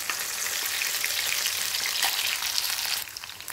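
Onion-tomato mixture frying in hot oil in a pan for a paneer curry gives a steady, close, broadband sizzle that holds for about three seconds, then eases slightly as the crackle settles.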